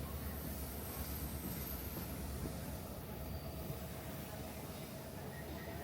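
A scenic railway train on the Jim Thorpe line in Pennsylvania rolls steadily along the tracks, a continuous low rumble of engine and wheels with faint squeals, close and unbroken throughout.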